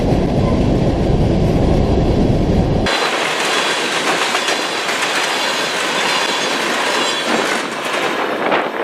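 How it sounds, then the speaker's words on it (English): A freight grain train rolls past close by, starting with a deep engine rumble, then a long steady clatter of wagons on the rails with occasional squeals. "After the grain train got by"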